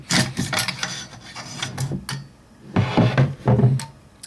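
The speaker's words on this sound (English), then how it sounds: "just slide this right out the action by pulling the forend forward" The forend of a Winchester 1300 shotgun is pulled forward along the action and slid off, giving close, repeated metallic scraping and rubbing strokes in irregular bursts separated by short pauses.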